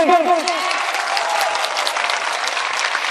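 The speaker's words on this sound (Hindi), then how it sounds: "मैं चाहता हूँ कि आगे से लेकर पीछे तक पूरा मजमा एक बार जोरदार तालियां बजा दे" Loud, dense audience applause at an all-India mushaira poetry gathering, with a voice briefly overlapping at the start before sustained clapping fills the rest.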